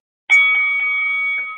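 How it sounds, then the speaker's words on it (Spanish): A single bell strike opens a rap battle round, a clear metallic ring that sustains and slowly fades over about a second without any talk. "al sonido de la campana"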